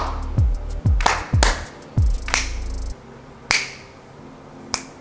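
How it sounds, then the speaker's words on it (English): Several sharp hand claps or snaps, close and loud, spaced irregularly over a few seconds with short pauses between them. "So let me clap here."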